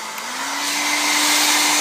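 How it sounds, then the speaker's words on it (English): A hair dryer on its maximum setting blows steadily while drying a crocheted doily, a loud continuous whoosh with a rising whine that holds alone for the whole stretch. "you can use your hair dryer. Put it to the maximum setting"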